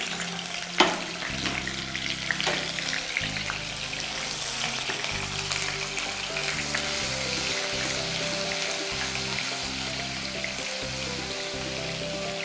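Continuous close sizzle of something frying in hot oil, a bright crackling hiss with a faint low hum underneath, no voices.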